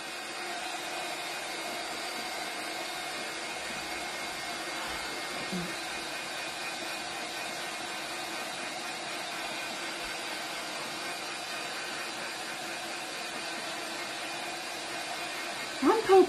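Steady whirring blower of a dryer running continuously up close, drying paint on a scarecrow door hanger craft, with a brief clatter right at the end.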